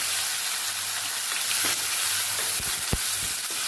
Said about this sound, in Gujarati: મરચાંને આપણે સાતડી લેવાના છે